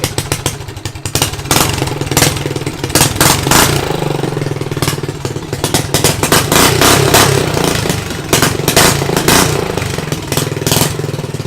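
The small engine of a drift trike runs loud and close after warming up, off choke, with a rapid throbbing beat and uneven surges of revving throughout.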